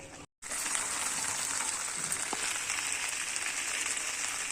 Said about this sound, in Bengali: দেখো ভালো করে মিক্স করে নিচ্ছি